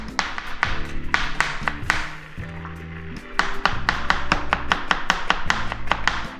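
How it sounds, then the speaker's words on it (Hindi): Three medium onions are sliced finely with a knife on a cutting board, giving rapid, rhythmic close taps that pause briefly midway before resuming at a steady pace. "तो इतने हम कट कर लेते हैं प्याज"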